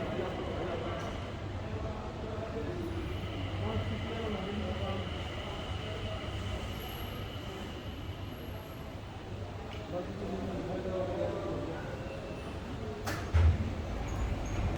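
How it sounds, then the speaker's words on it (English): A steady, low rumble of a shuttle train pulling in at Dubai International Airport, with a constant mechanical hum and faint voices in the background. "The train is arriving now."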